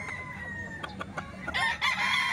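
Chickens and roosters cluck and call close by at a Saturday poultry market in Baliwag, with several short squawks followed by a louder crow-like burst near the end.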